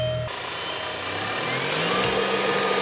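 The DC electric motor of a converted 2008 Volkswagen Beetle spins up after a short click, giving a smooth whine that climbs steadily in pitch over a background hum, heard close up.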